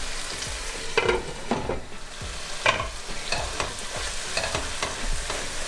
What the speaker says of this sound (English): we're going to let this cook covered until the tomatoes are really nice and soft